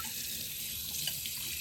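A kitchen tap runs hot water while dishes are rinsed, a soft, steady hiss of flowing water with faint splashes, fairly quiet and uninterrupted.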